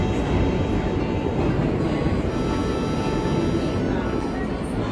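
Continuous heavy rumble of a New York subway train in motion, loud and close, with a constant roaring wash and faint high-pitched tonal whines above it.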